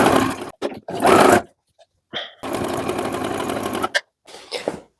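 Sewing machine stitching the lining of a women's vest: several bursts of rapid mechanical whirring, short runs first and then a longer steady stretch, separated by silent pauses, close and clear.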